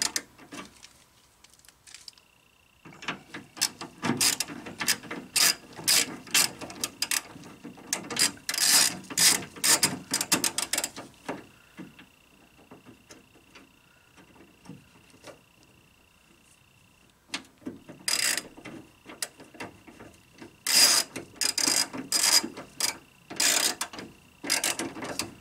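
Tightening a bolt on a car's driver's door window mechanism, with repeated sharp ratcheting clicks in bursts, close and clear, pausing between rounds of turning.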